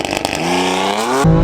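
A wrecked rear-wheel-drive BMW M4 launches hard on a 0 to 60 run, its engine note climbing steeply through the revs over a second before an abrupt upshift, loud and close.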